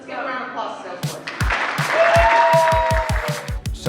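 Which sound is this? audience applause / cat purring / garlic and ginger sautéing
audience applause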